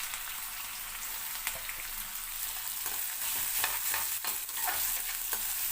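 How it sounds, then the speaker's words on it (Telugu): Green chillies fry in an oily pan with a dense, continuous hiss, broken by intermittent scraping strokes as they are stirred. "ఇప్పుడు దీంట్లో పచ్చిమిర్చి కూడా వేసుకుందామండి."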